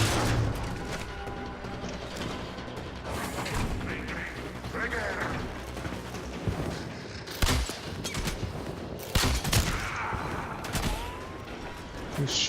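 Gunfire in the video game Warframe, rapid bursts of shots running under steady game sound, with a few louder, sharper blasts standing out near the end.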